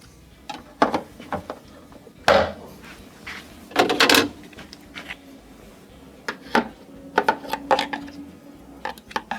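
A freezer door assembly is slid into its slots and pushed forward to lock, giving a string of sharp plastic clicks, knocks and rattles, scattered irregularly across the stretch with quiet gaps between.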